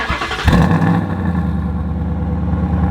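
A twin-turbo Mustang GT V8 rumbles at idle with its exhaust valves closed, a steady, fairly loud low burble after a brief louder blip near the start.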